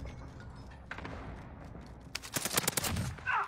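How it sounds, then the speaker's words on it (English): Heavy video-game gunfire, a rapid burst of loud close shots after a quieter stretch of game ambience, ending in a short swell of noise. "Under heavy fire here."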